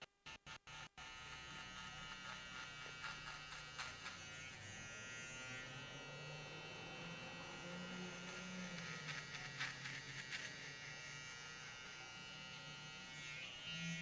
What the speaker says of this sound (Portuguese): a gente vai estar usando a máquina de acabamento